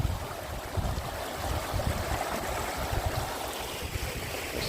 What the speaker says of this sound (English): So there's the river on the other side there